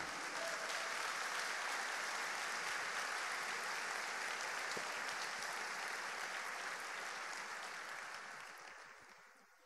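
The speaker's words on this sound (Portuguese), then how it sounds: "pode aplaudir" A church congregation applauds steadily and loudly, a dense, sustained wash of clapping that fills the room and tapers off slightly toward the end.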